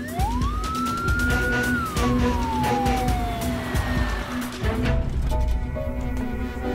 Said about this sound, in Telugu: తప్పండి తప్పండి. అంబులెన్స్ దారండి